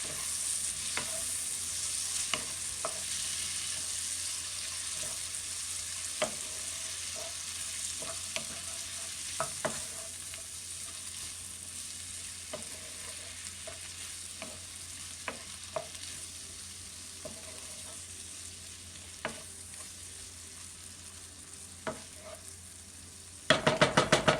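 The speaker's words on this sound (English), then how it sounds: "I'm going to add in our drained corn. Mix it all up." Drained corn is stirred in a hot pan for confetti corn, with a steady sizzle and repeated sharp scrapes and clicks of the utensil against the pan.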